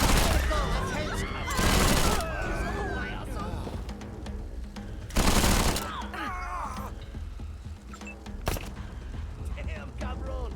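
Gunfire in Wasteland 3 crackles in short loud bursts and single shots amid combat, with gruff voices shouting between them.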